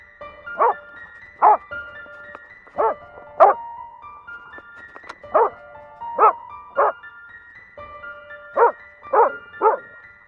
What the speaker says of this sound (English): The clip shows a dog spotting a large grizzly bear and runs straight at the predator without any hesitation.